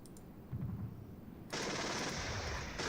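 Gepard anti-aircraft guns firing in the wartime strategy game Regiments, a faint, distant rattle that swells into a sustained, dense burst of rapid autocannon fire.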